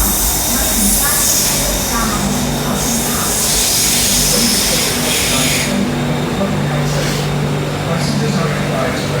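Subway train pulls into an MRT station in Bangkok with a loud hissing, rumbling roar under station ambience, fading partway through as brakes and air release settle.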